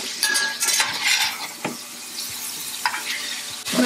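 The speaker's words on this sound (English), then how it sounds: "I'll brown the onions in this fat." Onions browning in hot fat in a pan with beef nearby, sizzling steadily up close while a utensil scrapes and clinks against the pan in short bursts, with no talking.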